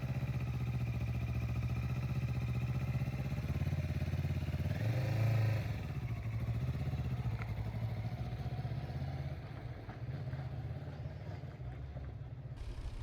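A motorcycle at a driving school runs steadily for a long stretch, its engine droning and rising briefly in pitch, heard from the riding position with wind and road noise.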